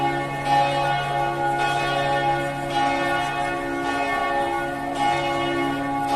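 Church bells ring steadily with rich, sustained overlapping tones, repeated strikes blending into a continuous resonant peal.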